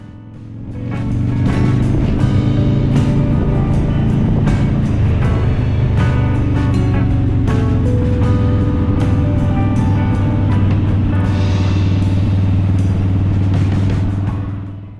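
Harley-Davidson Dyna Fat Bob motorcycle cruising through Karangahake Gorge, its V-twin engine a steady, loud, close rumble sustained throughout with no talking.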